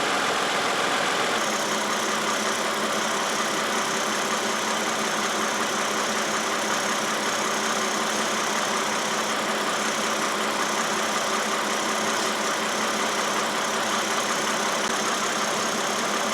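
A 2011 Toyota Sienna 3.5L engine idles steadily throughout, a continuous even hum with no speech, left running during cooling system work after a cooling fan replacement.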